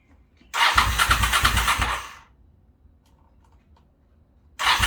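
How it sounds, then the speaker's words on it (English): A Honda Shadow motorcycle with empty carburetor bowls cranks in a cold start, a loud churning burst lasting over a second that dies away to near silence before cranking starts again at the end. "Then we're going to go ahead for a cold start."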